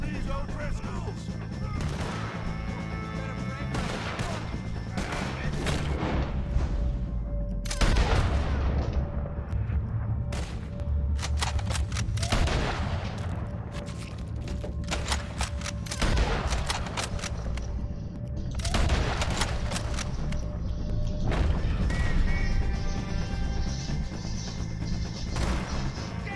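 Shootout with O'Driscolls in Red Dead Redemption 2: repeated rifle and pistol shots crack in dense bursts over a constant noisy battle bed, with shouting voices mixed in throughout.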